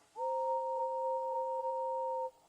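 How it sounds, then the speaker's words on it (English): A steam engine blows an extra long whistle, one steady two-tone blast lasting about two seconds and then cutting off cleanly, moderately loud against a quiet background. "He blew an extra long whistle."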